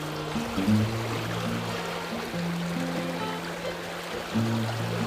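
A stream rushes steadily in a broad, even wash of flowing water, with low droning tones running underneath.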